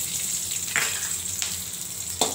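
Garlic sizzling in hot oil in a pan while making spinach idli podi, a steady broadband frying hiss throughout with a few brief sharper crackles, close and alone.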